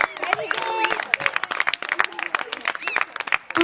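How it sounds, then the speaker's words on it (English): An audience at a children's Ramlila performance claps in uneven bursts, moderately close, with lively chatter and voices mixed throughout. "Big applause."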